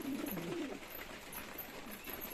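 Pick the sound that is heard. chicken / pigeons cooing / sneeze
pigeons cooing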